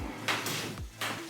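A cabinet drawer in a handmade square cabinet slides open and shut, giving a couple of short wooden scraping rolls and a soft bump at the end, close and alone.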